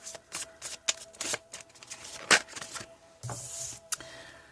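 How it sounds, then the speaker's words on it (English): A deck of tarot cards is shuffled close by in quick, papery riffles and flutters, soft and irregular, with no talking. "Let's shake these cards up a bit."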